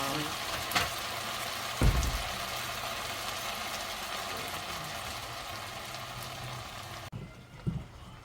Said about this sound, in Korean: 불을 좀 낮춰가지고 좀 서서히 볶아주면 돼요.